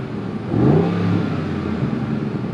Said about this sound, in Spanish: Ese ruido del escape de este coche, o sea, es una pasada.